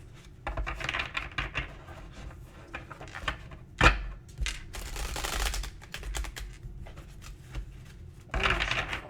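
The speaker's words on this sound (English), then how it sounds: "One more shuffle." Tarot cards being shuffled by hand close up, with crisp, repeated riffling bursts of rustle and one sharp snap partway through, and no talking.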